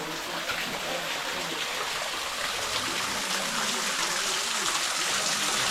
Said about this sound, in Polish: Dotarliśmy do wodospadu.